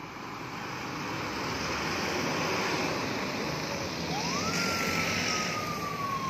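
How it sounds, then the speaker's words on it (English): An ambulance siren wails steadily over loud road noise, its pitch sliding as the vehicle rushes past close by. "This is another ambulance."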